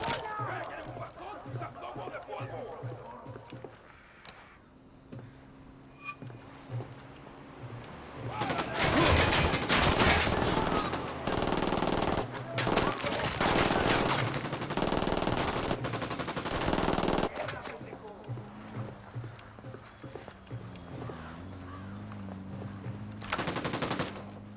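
Gunfire in the open-world shooter Ghost Recon Wildlands breaks out midway as heavy, sustained automatic bursts for several seconds, framed before and after by quieter game voices and ambient sound.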